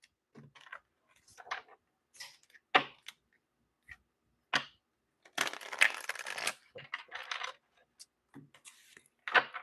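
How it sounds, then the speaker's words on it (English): A deck of tarot cards is shuffled in short, papery riffles and slides, close and intermittent with pauses between bursts and a longer rustle in the middle. "I'm going to give this a good little shuffle here."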